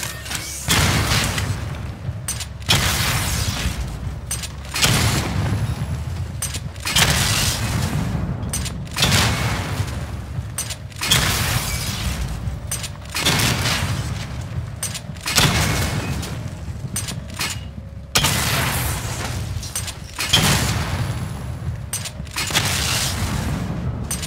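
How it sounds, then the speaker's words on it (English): Repeated missile barrage explosions in Batman: Arkham Knight, a steady run of loud booming blasts about every two to three seconds with no break between them. "Charge the missile barrage to level 2 to destroy up to 4 targets at once."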